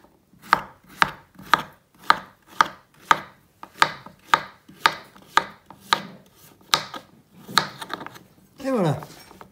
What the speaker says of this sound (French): vous faites attention avec un couteau. On va le couper, vous voyez,